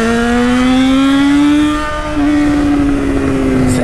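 Loud, close Yamaha XJ6 motorcycle engine revving high, holding a strained rising whine, dipping briefly, then climbing again.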